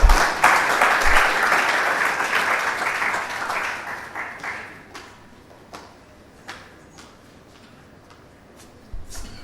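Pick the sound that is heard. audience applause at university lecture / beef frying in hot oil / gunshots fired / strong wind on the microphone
audience applause at university lecture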